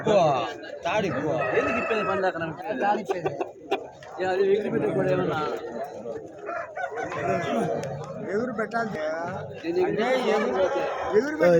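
Chickens and roosters at a busy hen market cluck and crow over ongoing crowd chatter, with several overlapping calls rising and falling across the scene, fairly close and mixed with voices.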